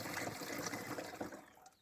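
Mixed spray solution for treating apricot trees is poured into a sprayer tank, a steady close splashing and gurgling stream that trails off at the end.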